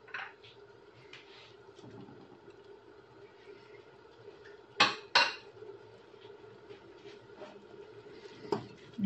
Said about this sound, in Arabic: نحركو هادشي مزيان